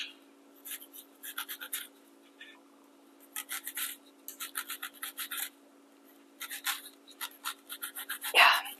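Knife cutting onion on a cutting board, close quiet rhythmic rasping strokes in short bursts separated by pauses, over a steady low hum.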